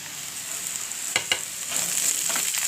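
Green chillies frying with onions and curry leaves for a Tamil shredded chicken fry, a steady close sizzle with a couple of sharp stirring clicks and the hiss swelling slightly near the end.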